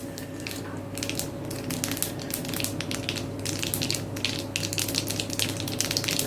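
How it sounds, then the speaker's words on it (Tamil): Mustard seeds and urad dal splutter in hot sesame oil, giving a steady frying hiss with dense, irregular pops and crackles over a low background hum, fairly quiet and close. "கடுகு நல்லா பொரியட்டும்"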